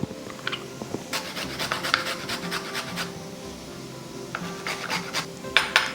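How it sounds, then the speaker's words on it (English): Fresh ginger is rubbed against a metal grater, giving bursts of quick rasping strokes close by, with brief pauses and a light clink of kitchenware, no talking. "Now I'm going to grate ginger."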